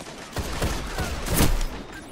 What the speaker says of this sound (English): And of course I get shotgunned.